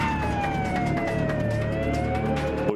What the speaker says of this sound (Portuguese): observamos a chegada de uma viatura blindada Piranha Ambulância UTI